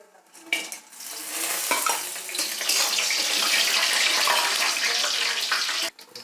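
Cumin seeds and panch phoron hit hot soybean oil for chicken bhuna khichuri, giving a loud, dense, close crackling sizzle. It swells after a sharp start, holds steady for several seconds and then cuts off abruptly.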